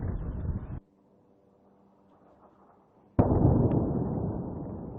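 Two loud, dense bursts of explosive noise in Lebanon, separated by a quieter stretch of low rumbling; the second blast is sudden and sustained.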